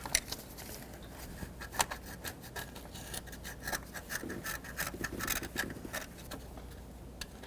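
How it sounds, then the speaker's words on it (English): A screwdriver scrapes debris from the thermostat sealing surface on a 2005-2010 Pontiac G6, giving soft irregular rasping strokes at close range, with no talking over it. "I'm going to take a screwdriver and just scrape a little bit of this debris off of here"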